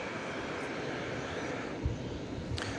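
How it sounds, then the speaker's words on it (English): Airplane at DFW Airport at night, a flight bound for Melbourne, heard as a steady broad engine rumble and roar at moderate distance, fairly even in level with a couple of brief thumps. "This should be the flight that's going to Melbourne, I think."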